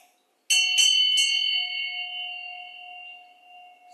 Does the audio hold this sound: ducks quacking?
no